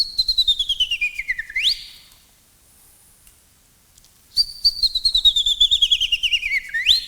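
Two bursts of bird song, each a rapid run of bright whistled notes sliding downward then sweeping up, separated by a couple of seconds of near silence, clear and close.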